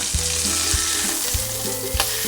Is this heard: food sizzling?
yes